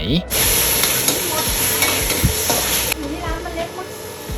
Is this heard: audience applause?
no